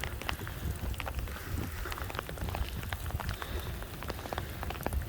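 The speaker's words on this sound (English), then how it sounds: "it is raining out right now" Steady rain falls outdoors on a cold, windy day, a dense even patter of drops with a low rumble of wind underneath, continuous and fairly close.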